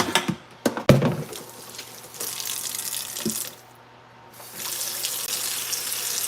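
Tap water runs into a kitchen sink to soak dishes, a steady broadband rush that pauses briefly partway through and then resumes, with a few clunks of dishes near the start.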